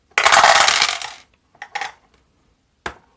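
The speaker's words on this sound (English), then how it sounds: "So, 4 dice. We want 1, 2, 3, 4s." Four dice roll on a table during a Bios:Genesis board game turn: a long rattling clatter, then two quick short clicks and one final sharp tap as they settle, with no talking.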